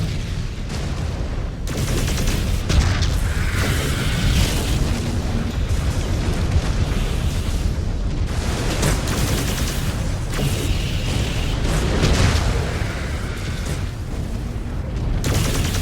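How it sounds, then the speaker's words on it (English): Incoming missiles explode around a mech in a MechWarrior video game, a long barrage of heavy booms and rumbling blasts mixed with rapid weapon fire, loud and nearly unbroken throughout. "Incoming missile."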